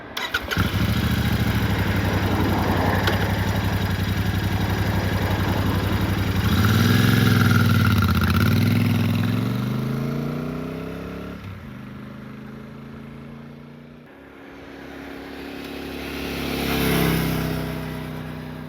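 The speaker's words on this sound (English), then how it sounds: "when we heard the sound of the original exhaust" A Royal Enfield Super Meteor 650 with its stock exhaust idles steadily, then revs up and down and pulls away, the exhaust note rising and falling close by.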